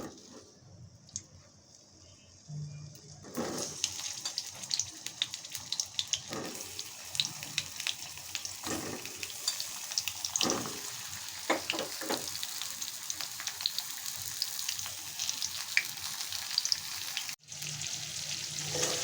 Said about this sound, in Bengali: তেলের ভিতর দিয়ে দিচ্ছি পটল।